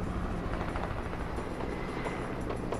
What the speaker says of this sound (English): And they're in a helicopter.